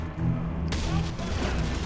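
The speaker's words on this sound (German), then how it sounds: "Waren gerade schon genug Schüsse, die wir einstecken mussten hier." Gunfire from the video game Batman Arkham Origins bursts out in loud, dense volleys with booming impacts, layered with game sound effects.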